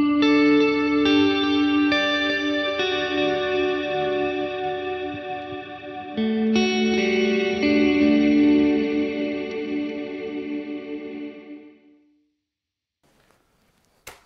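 Clean neck-pickup electric guitar through a UAFX Ruby amp pedal rings out strummed chords with a shimmering, effect-laden tone, sustaining for several seconds before decaying into near silence.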